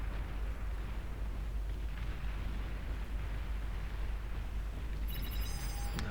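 Nuke intercepted by an anti-nuke defense in the strategy video game BAR, a heavy rumbling explosion roar sustained throughout a large-scale battle, with a bright ringing electronic tone breaking in near the end.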